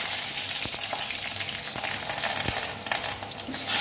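Dried and fresh chillies with a bay leaf fry in very hot oil, making a loud, dense sizzle with a few sharp crackles and utensil knocks. Nobody talks.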